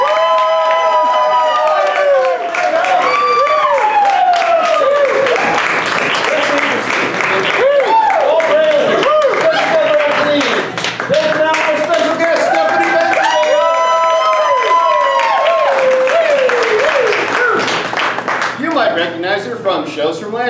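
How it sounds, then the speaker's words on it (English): A live improv comedy audience applauds and cheers to welcome the performers on stage, dense clapping with whoops running continuously for about twenty seconds, loud and close, with voices mixed in. "With a big round of applause, please welcome the rest of Einstein Simplified tonight."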